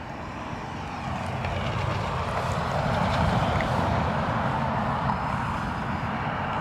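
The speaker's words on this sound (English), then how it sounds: "We have an ATR from Donegal." ATR turboprop arriving from Donegal at Dublin Airport, a broad propeller and engine roar that swells toward the middle and holds steady, heard from the airfield edge with no talk.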